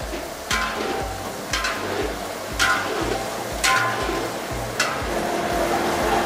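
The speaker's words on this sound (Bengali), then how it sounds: "পাঁচশো গ্রাম আদা রসুন বাটা গেল এর মধ্যে, দিয়ে খুব ভালো করে নেড়ে কষতে হবে" Five hundred grams of ginger-garlic paste stir-fried in oil for a Mughlai mutton stew: a steady sizzle under regular scraping strokes of a spatula across the pan, each stroke a sharp, close, rhythmic scrape.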